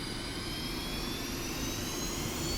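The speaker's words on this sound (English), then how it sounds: "We're going to start spooling up." A Su-25T Frogfoot jet engine spools up in a flight video game, giving a steady, loud, continuous roar with a high whine that rises gradually in pitch, with no talking.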